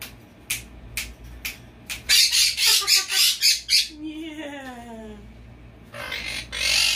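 A pet bird squawks loudly indoors in a rapid series of harsh calls, followed by a longer wavering squawk and a short burst at the end, with a low steady hum in the background.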